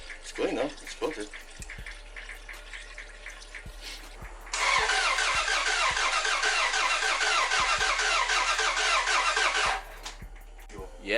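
A car engine cranks steadily for about five seconds without catching, failing to start because the fuel pump relay is missing, with clicks and shuffling around it in a close, quiet garage space.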